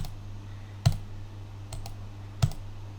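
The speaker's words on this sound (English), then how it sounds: "Click on update" Computer mouse clicks, a few crisp isolated clicks spaced about a second apart, close and fairly clear over a low electrical hum.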